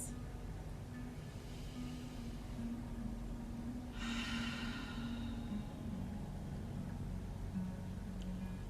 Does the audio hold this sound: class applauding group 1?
no